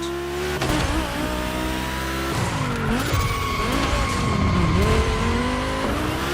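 An Audi race car in The Crew Motorfest gymkhana event roars and revs loudly, engine pitch sweeping up and down as tires skid and squeal through continuous sliding turns.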